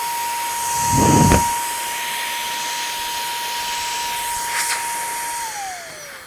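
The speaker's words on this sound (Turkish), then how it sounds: "Bu şekilde ürünü bir elektrikli süpürge olarak kullanabiliyorsunuz." A handheld cordless car vacuum runs with a steady high-pitched motor whine and airy hiss, a brief burst of suction noise early, then the pitch drops as it winds down.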